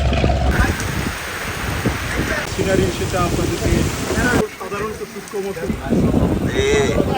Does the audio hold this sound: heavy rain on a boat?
yes